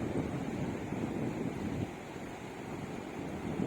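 Waves washing on Dahanu Beach, India, with a continuous rumbling surf, mixed with gusty wind buffeting the microphone.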